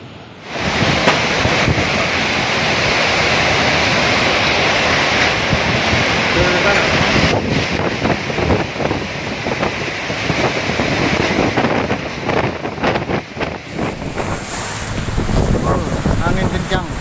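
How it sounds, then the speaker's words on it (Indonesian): Strong storm wind roars across a street intersection in Nabire, Papua, buffeting the microphone in a loud, continuous rush with gusty surges throughout. "Angin kencang"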